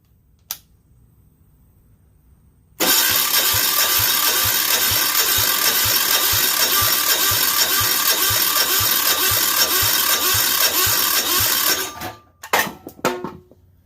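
A Yanmar L100 diesel generator engine cranks on a larger 800-amp battery, a loud, steady rhythmic churning of the starter lasting about nine seconds without catching, then cutting off into a few clanks.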